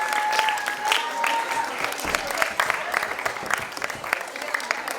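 An audience at a ceremony for the Indradhanush 2023 Amrit Kaal programme claps loudly and steadily for several seconds, with a faint whistle-like tone early on and no clear speech.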